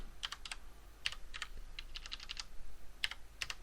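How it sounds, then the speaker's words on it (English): Fingers type on a computer keyboard during a networking lab, sharp clicking keystrokes coming in quick uneven bursts with short pauses, close and fairly quiet. "This is a lovely keyboard, but my fingers are not working properly on it today."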